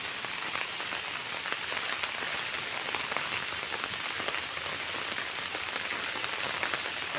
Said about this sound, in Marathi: मित्रांनो पाऊस खूप जोरदार चालू झालेला आहे.